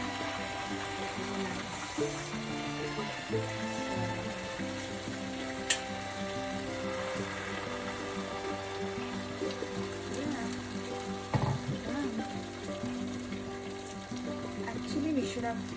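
Onion and tomato paste frying in a pan for aloo gobi masala gravy, a steady low sizzle running throughout beneath faint clatter and background hum, with no talking.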